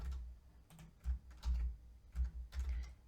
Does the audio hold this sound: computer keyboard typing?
yes